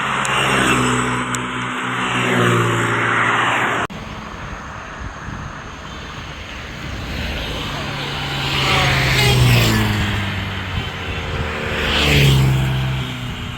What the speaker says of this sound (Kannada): ಈಗ ತಾನೇ ನಾವು speed testing between Dio, Ola and Activa ನೋಡಿದ್ವಿ.